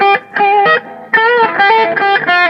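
Electric guitar played through a modded Musicman RD50 amp with its reverb converted to a preamp boost, giving loud, sustained distorted chords in choppy bursts that break off and restart.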